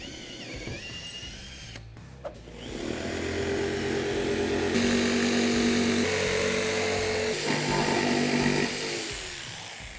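A jigsaw cuts a hole through a wooden cornhole board, a loud, steady buzzing saw that runs continuously for most of the clip after a brief start.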